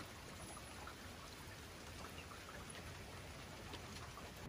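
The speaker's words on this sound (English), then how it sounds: "it's dumping rain outside" Heavy rain pours down outdoors in a steady, dense hiss with scattered drop patter, continuous and unbroken throughout, with no voices.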